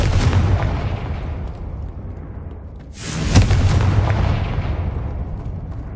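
Confringo blasting spell fired in a Harry Potter video game: a loud, sudden booming explosion bursts out midway and rolls into a long rumbling roar over a steady low background.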